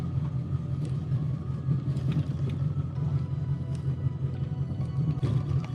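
A rebuilt Corvette with a self-built engine and poor brakes drives along, giving a low steady rumble with creaks and rattles from the shaking body, fairly quiet and continuous, with no talking.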